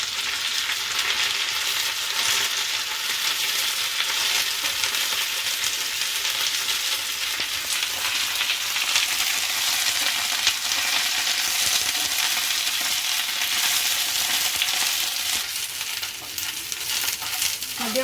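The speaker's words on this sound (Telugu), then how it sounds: "మధ్య మధ్యలో ఇలా కలుపుకుంటూ మంచిగా అన్నీ ఈవెన్గా ఫ్రై అయ్యే వరకు వేయించుకోవాలి." Curry leaves frying slowly in a pan for a coriander pickle, a continuous close crackling sizzle with light scraping and occasional clinks from stirring, steady and without talk.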